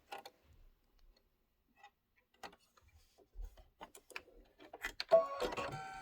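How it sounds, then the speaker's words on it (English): An embroidery machine stitches quilting on fabric, with sparse ticking clicks at first that build into quicker, busier mechanical tapping and whirring near the end, fairly quiet and close. "now I'm going to put my thread in and stitch the quilting"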